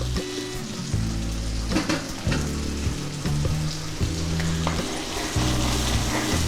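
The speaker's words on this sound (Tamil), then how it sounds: "புளி தண்ணி கொஞ்சம் நல்லா கொதிக்கட்டும்." Tamarind water in a pan bubbles and sizzles steadily up close, with a low repeating hum running underneath throughout.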